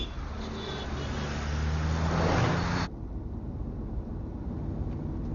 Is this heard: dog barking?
no